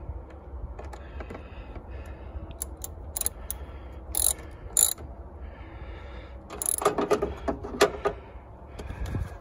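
A ratchet tightening the battery terminal on a Honda Accord, with quiet irregular clicks and metallic taps, some sharper bursts in the later part, fairly close and faint, with no talk.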